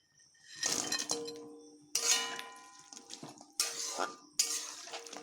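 Fried paneer stirred into a pan of gravy, with a spoon clinking and scraping against the pan in four distinct bursts, close and clear, no talking.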